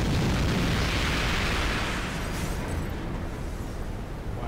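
A big ship explosion in the video game Carrier booms and rumbles loudly, its deep roar slowly fading over a few seconds.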